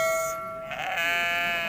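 Sheep at a livestock market give a clear, drawn-out bleat, close and prominent over quiet surroundings, with a brief shift in pitch partway through.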